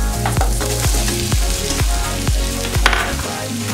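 Sliced onions sizzle loudly in oil in a pan for Kerala-style spaghetti, frying alongside green chilli and ginger, with a dense continuous crackle broken by regular scraping strokes of a spatula about every half second.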